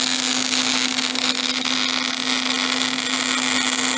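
Welding brackets onto a homemade trailer, a loud, continuous buzzing hiss with a steady humming tone underneath, close by and unbroken for several seconds.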